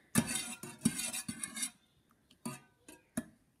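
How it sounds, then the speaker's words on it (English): A metal spoon stirs tea in a cup. Several quick bright clinks and scrapes sound up close in a cluster, then a few softer isolated taps follow in a quiet room. "So I'm just going to give it another stir."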